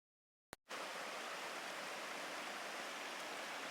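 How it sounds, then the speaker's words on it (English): Creek running high after rain, a steady broadband rush of flowing water that starts abruptly after a brief click and continues loud and unbroken, with no voices. "you guys want to listen to the water, get your morning zen on."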